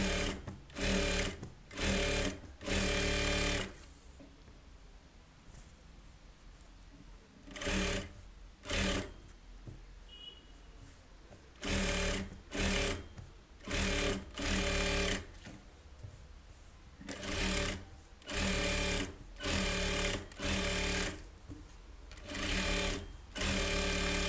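A sewing machine stitches the lining of a blouse in loud, close bursts of rapid mechanical whirring that start and stop repeatedly, separated by short quiet gaps.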